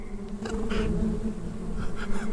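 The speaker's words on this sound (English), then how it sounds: "Oh god, the karma bees!" Karma bees swarm in Starbound with the Frackin Universe mod, a loud, steady insect buzz that drones for the full stretch with small swells and no voices over it.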